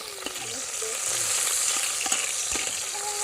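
Meat and ginger sizzle steadily in a hot pan, with occasional stirring scrapes and pops over the continuous frying hiss.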